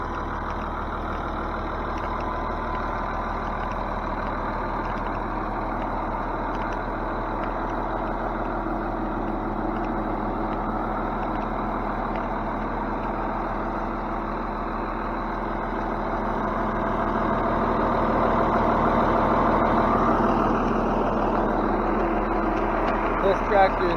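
A Ford 8730 farm tractor with power shift runs with a steady, low engine drone, close and continuous, swelling slightly louder near the end, with a voice talking over it.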